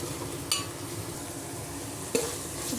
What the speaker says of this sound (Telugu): పచ్చి వాసన పోయే వరకు ఫ్రై చేసుకుందాము.